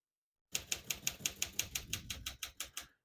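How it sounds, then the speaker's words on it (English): Keys strike in a quick, even run of about fourteen crisp clacks on a 1951 Smith-Corona Silent portable typewriter, close and clear with no voice over them. "We keep that on single for now and finish typing."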